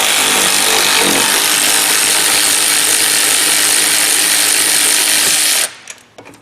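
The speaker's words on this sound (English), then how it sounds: "Let's see if we can spin the top one out here and get it going the right way." Power ratchet spinning a rear brake caliper bolt on a Nissan Murano, a loud continuous buzzing whir that runs for several seconds, then cuts off abruptly into a few faint clicks.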